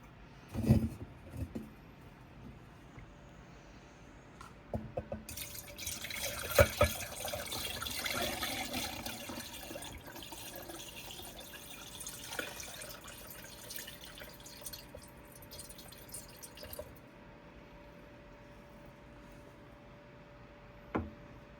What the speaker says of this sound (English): we're gonna funnel it down into the mason jar